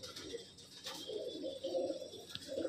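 Red Tatira pigeons, a pure Punjabi Malwai pair with a black Tatiri hen, give soft, low repeated coos close by against a quiet background.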